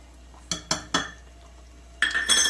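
A spoon scrapes and knocks against a pot while cardamom powder is stirred into thick carrot kheer, with three sharp clinks, a pause, then a busier burst of metal stirring up close.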